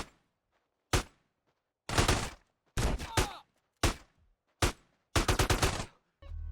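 Gunfire in GTA Definitive Edition, single loud shots and short rapid bursts of automatic fire separated by near-silent gaps, close and punchy.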